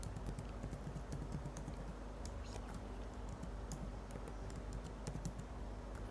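Steady close typing on a computer keyboard while writing code, rapid continuous key clicks with a soft voice faintly underneath.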